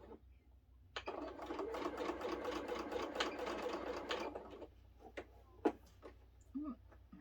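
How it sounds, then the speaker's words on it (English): A sewing machine stitches a quilt block in one fast, steady run of several seconds, near and clear, followed by a few isolated clicks and taps as the fabric is handled. "And I'm going to sew."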